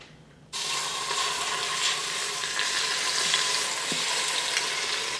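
Chicken laid skin side down in hot olive oil in an Instant Pot, a quiet moment and then a sudden loud sizzle that holds steady and close, with light crackling throughout.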